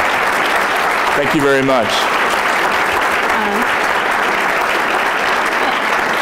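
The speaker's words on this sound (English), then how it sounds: "a round of applause and a very big thank you" Audience applauding after a talk on the wealth gap, a steady dense clapping wash throughout, with someone briefly speaking over it.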